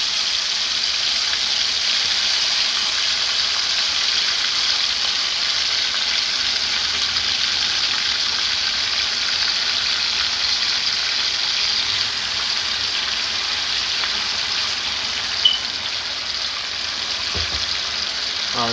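Chicken liver fries in a hot pan with an even, loud, unbroken sizzling hiss that holds steady throughout, with one brief clink near the end.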